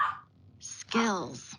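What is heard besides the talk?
dog barking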